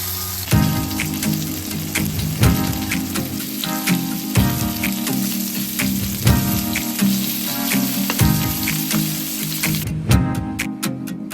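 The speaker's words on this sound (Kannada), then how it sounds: "ಫ್ರೈ ಆಗ್ತಾ ಇದೆ." Chicken sizzles on a hot tawa, frying crispy. A loud, continuous close sizzle runs throughout, with regular bursts of spattering and scraping every couple of seconds.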